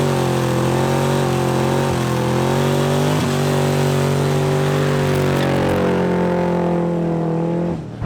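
A supercharged C4 Corvette with an LT1 engine pulls hard, its loud steady engine drone rising in pitch as the rear tires break loose, running close and alone until it cuts off near the end.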